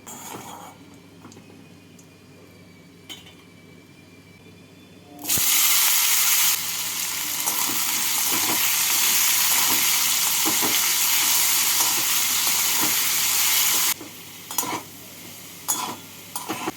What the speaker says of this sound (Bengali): অল্প সর্ষের তেল এর মধ্যে দিয়ে দিচ্ছি সামান্য একটু নুন নুন দিয়ে তেলটাকে ভালো করে গরম করে নিয়ে আলুগুলোকে ভেজে তুলে রাখবো